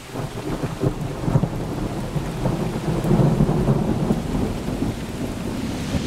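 A thunderstorm with steady heavy rain and low rolling thunder outdoors, a loud, continuous wash of rainfall with deep rumbles throughout and no voices.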